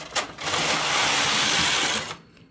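A knitting machine carriage slides across one row in a single loud, continuous rasping whoosh of about two seconds, starting with a click and stopping abruptly.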